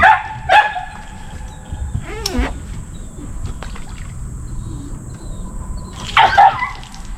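Pepper, an excited dog on a fishing outing, gives a few scattered barks and yips, one near the start, a whining rise in the middle and another near the end, over faint background noise.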